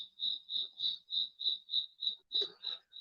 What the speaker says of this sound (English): The crickets in Indiana are loud.